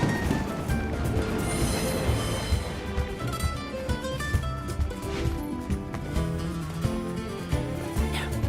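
A train rolls past in the video game Duet Night Abyss, with a steady loud rumble and rattling carriages that stretch across the whole stretch, layered with dense mechanical clatter and some ringing tones.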